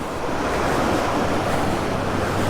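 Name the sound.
waterfall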